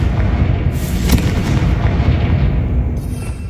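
A Confringo spell explosion in Hogwarts Legacy, a loud, sustained booming blast with a heavy low rumble and crackling bursts that fill the whole stretch, close and dense.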